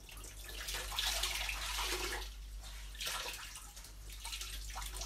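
Clean water splashes and pours in a steady rush as a face is rinsed, swelling and easing in two broad waves, close and moderately loud with no talk.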